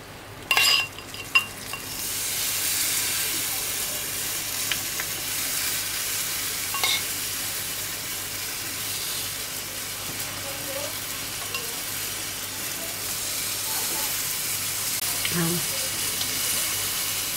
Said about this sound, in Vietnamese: Rồi mình sẽ múc khô quẹt. Đây. Mình sẽ trộn đều lên.